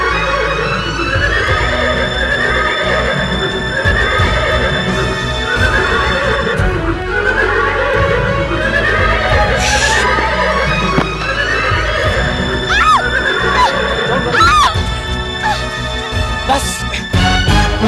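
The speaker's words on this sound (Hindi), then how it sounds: "साहब कायनात बीबी का घोड़ा टूट गया" A horse that has broken loose neighs in a Pakistani TV drama scene, with several shrill whinnies rising out of a dense, steady background of sound, the loudest calls coming near the end.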